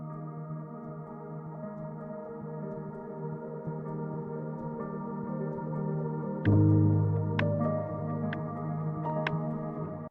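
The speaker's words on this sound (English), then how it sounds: "adding a large reverb with Solaris, and then finally a ping pong delay" Guitar notes ring out drenched in a large reverb and ping pong delay, with echoes bouncing back and forth and long sustained tails swelling under the playing.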